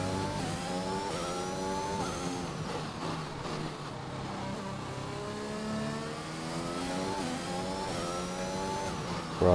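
McLaren race car engine in a sim racing game at the Hungary circuit, revving up through repeated gear changes with rising and falling whine, mid-distance and steady in loudness.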